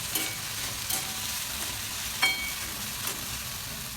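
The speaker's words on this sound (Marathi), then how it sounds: "आता एवढा भेंडीला चांगला असं फ्राय द्यायचं" Okra with green chillies fries in a pan, a soft, even sizzle with a few light scrapes and taps of a spoon stirring at intervals.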